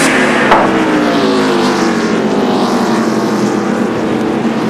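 Stock race cars at the 2002 Virginia 500 roar past in a continuous, loud engine drone with shifting harmonic whine as the field runs around the track, no talk heard over the steady mechanical din.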